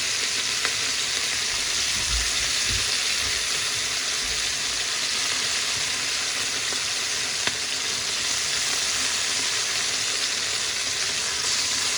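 Jamaican jerk prawns fry in a hot pan, a dense, loud, unbroken sizzle and crackle that stays even throughout, with a few faint knocks beneath it.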